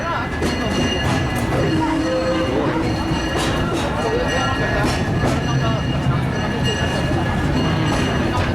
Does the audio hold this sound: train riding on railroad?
yes